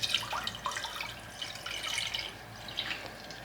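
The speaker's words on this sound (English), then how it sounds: "we're going to pour some water into this boiling pot" Water pours and trickles into a pot on a Stoke Voltaics Nomad portable cooking system, a soft close splashing that runs without a break and has no talk over it.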